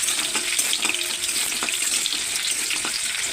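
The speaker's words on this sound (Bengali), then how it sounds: "আর এখানে বড়িটা ভেজে নেবো ভালো করে।" Bori, lentil dumplings, fry in hot oil for shukto with a busy, close sizzle broken by small crackles and pops throughout, without any talk.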